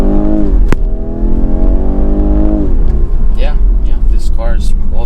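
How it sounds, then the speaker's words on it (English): A 2023 BMW 430i convertible accelerates, its engine note rising loud and close, then easing off as the driver starts talking over it. "All right, one more acceleration here."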